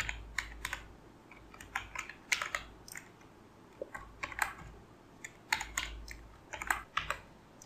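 HTML code being typed on a computer keyboard makes bursts of quick, close key clicks in uneven clusters, separated by short pauses, with no one talking.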